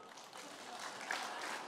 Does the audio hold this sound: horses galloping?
no